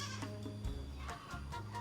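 Sapera goats, an Etawa-Saanen cross, bleat during milking, with several strong, wavering calls in quick succession close by and steady farm background between them.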